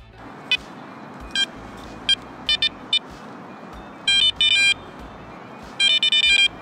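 Short electronic beeps and rapid stuttering tone bursts from a metal detector overloading on a shallow target, some in quick clusters, over a steady rumbling background like a running engine.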